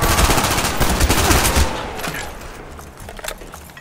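Dense bursts of rapid gunfire from a zombie shooter video game, loud and continuous at first, then thinning out and growing quieter toward the end.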